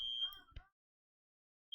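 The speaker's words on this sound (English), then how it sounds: "Unfortunately, the alarm still seems to be activated." A building smoke alarm sounds a steady, shrill electronic beep for about half a second, then cuts out into silence before another beep begins right at the end.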